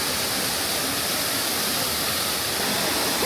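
A waterfall in Bali pours in a dense, steady roar of falling water, loud and close, with no breaks or voices.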